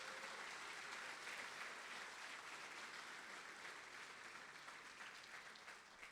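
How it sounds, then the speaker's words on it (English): Sustained audience applause fills an awards ceremony hall, a dense even wash of many hands clapping that holds steady and tapers slightly toward the end. "Let's give Sherry and Alan one more big round of applause."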